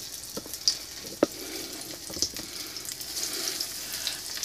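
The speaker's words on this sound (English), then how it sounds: "The moment you see it bubbling and starts to fry, it's good to go" Mac and cheese sticks deep-fry in hot oil with a soft continuous sizzle and bubbling hiss, broken by a few sharp crackles and pops. Close and moderately loud, with no talking.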